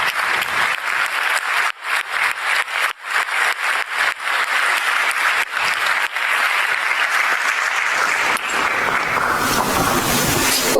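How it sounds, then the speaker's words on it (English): A large audience applauds at the Nobel Prize ceremony, steady dense clapping that fills the hall without a break, swelling slightly toward the end. "So I'm going to start by clapping for these people"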